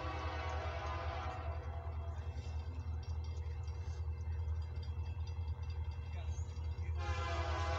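An eastbound Union Pacific/CSX mixed freight train approaches on the CSX main line at Deshler, Ohio, its steady rumble building with a horn sounding, fairly distant and continuous throughout.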